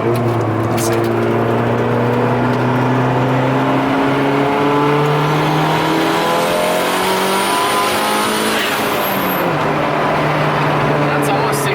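A turbocharged Honda Civic engine with VTEC revs hard under about 16 pounds of boost, loud and sustained with rising pitch sweeps through the gears, while people talk over it.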